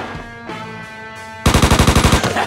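Gunfire in the video game Mafia III: a ringing tone fades, then a loud close burst of rapid automatic shots cracks out in an even rhythm of about a dozen rounds, with no talk.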